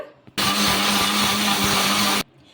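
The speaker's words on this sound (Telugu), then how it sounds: "ఇప్పుడు మూత అయితే పెట్టేసుకొని మిక్సీ అయితే పట్టేసుకుందాం" Mixer grinder whirring through semiya and bombay rava for a short burst, a loud steady motor roar with a grinding hum that starts abruptly and cuts off after about two seconds.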